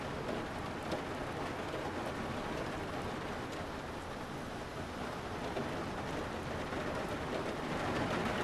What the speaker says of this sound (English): And it's raining, as you can tell.